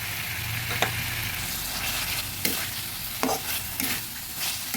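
Cut tomato goes into a sizzling spice mix for a punti fish dish with onion shoots. Steady frying hiss continues while a spoon scrapes and stirs in a few distinct strokes nearby.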